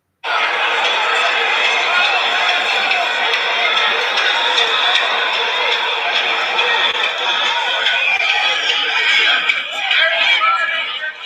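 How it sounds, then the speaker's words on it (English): A large outdoor crowd of hundreds of protesters at the U.S. Capitol roars steadily, with overlapping shouts, cheers and chatter blending into a dense, continuous wall of noise. "The noise you just heard is the hundreds of people at the U.S. Capitol still protesting."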